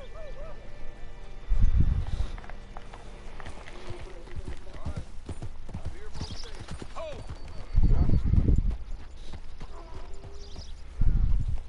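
Steady clip-clop of horse hooves trotting close by in the video game Red Dead Redemption 2, with a few louder low thumps and faint ambient noise in the background.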